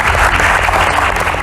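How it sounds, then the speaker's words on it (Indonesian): A short burst of loud applause from an audience, dense clapping that holds steady throughout. "Tepuk tangan dulu buat Sherly."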